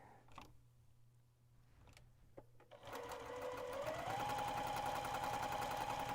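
A sewing machine chain piecing quilt pieces, a fast steady mechanical whir with rhythmic needle ticking that starts after a few soft handling clicks and runs close and continuous to the end.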